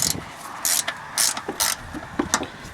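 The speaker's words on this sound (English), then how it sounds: "With our 13mm wrench, we will go ahead and loosen up these upper mounting bolts." A 13mm ratcheting box wrench loosens the upper strut mounting bolts on a 2001 Dodge Caravan Sport, giving several quick, sharp ratchet clicks in short irregular bursts, close and clear with no talk.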